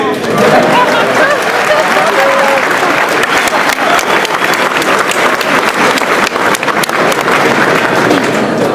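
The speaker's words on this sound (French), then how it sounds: "Vous pouvez l'applaudir." A hotel ballroom audience at a speech at the Hilton, San Francisco, applauds the MEDEF president with loud, dense, sustained clapping that fills the whole stretch, and voices mix into the crowd noise.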